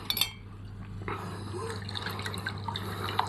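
A spoonful of water is stirred into DXN powder in a glass, giving soft, close liquid swishes and small clinks that continue in a quiet, irregular rhythm over a low steady hum.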